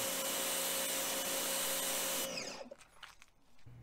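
An electric Suyncll 3800 pressure washer fitted with a green 25-degree nozzle at 1100 PSI and 1280 watts sprays with a loud, steady rushing hiss that cuts off abruptly partway through, leaving quieter, scattered spatter and background noise.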